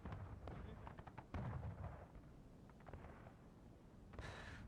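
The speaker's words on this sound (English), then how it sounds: "Gun ready. Firing." A Civil War-era cannon booms in the online battle game War of Rights, one heavy distant blast followed by rolling battlefield gunfire and rumble, faint and muffled under low ambient noise.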